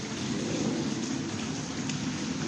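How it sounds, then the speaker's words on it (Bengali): Heavy, unrelenting rain pours down over flooded village roads in a dense, continuous roar, close and loud, with a low rumble underneath. "প্রচুর বৃষ্টি হচ্ছে, মানে বৃষ্টি আর থামে না।"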